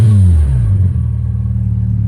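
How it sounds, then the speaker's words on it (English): A Volkswagen Jetta engine, under repair work on its mass airflow sensor housing, is revved close by. It gives a loud, deep rumble that swells and then settles into a steady idle, with no talking. "let's give it the rev now"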